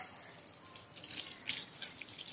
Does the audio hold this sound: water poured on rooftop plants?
yes